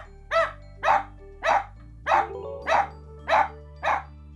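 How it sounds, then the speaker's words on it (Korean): A pet dog barks seven times, evenly spaced and fairly loud, each bark short and sharp, during an at-home training session to stop barking; no voices are heard. "짖지 않고 기다려야 돼, 망고야."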